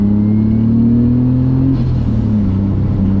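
A turbocharged BMW M50 engine in an E34 pulls hard under acceleration, a loud steady engine drone rising in pitch, then easing briefly as the gear shifts and picking up again, close and continuous with no talk.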